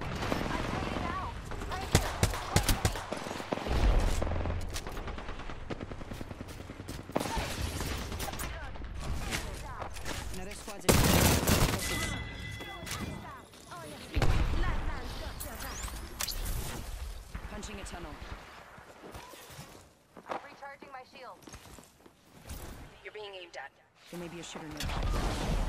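Gunfire in a shooter video game, with bursts of shots and heavy impacts rising and falling over a long stretch, mixed with game effects and a player's voice talking over the action.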